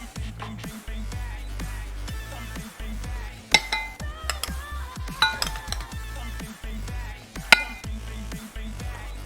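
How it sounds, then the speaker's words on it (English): Butter and sugar are mixed in a bowl, with a utensil clinking and knocking against the dish in uneven, close-up strokes and occasional sharper taps. "we're gonna start with mixing the butter and sugar together in a bowl"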